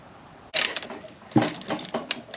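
A torque wrench on transmission case bolts of a Honda Prelude M2S4 gearbox gives sharp metallic clicks, a few distinct ratchet-like snaps separated by short pauses, close up in a quiet workshop.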